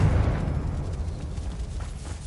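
A Confringo blast curse explodes in a Harry Potter video game, a loud deep booming burst that rumbles and slowly fades over a couple of seconds.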